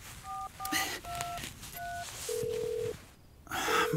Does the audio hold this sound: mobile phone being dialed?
yes